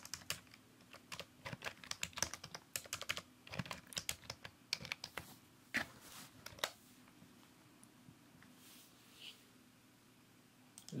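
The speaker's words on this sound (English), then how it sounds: "Let's type a text" Typing on a computer keyboard, a rapid irregular patter of close, crisp key clicks that runs busily for about seven seconds, then thins to a few scattered taps against a faint steady hum.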